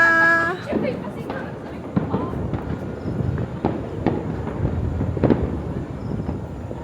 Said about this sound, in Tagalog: Wow, ang ganda ng mga fireworks.